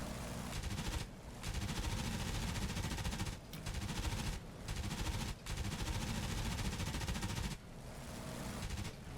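Machine guns of an F4U Corsair fire in long, dense bursts during a strafing run in the DCS flight game, loud and close, separated by a few brief pauses.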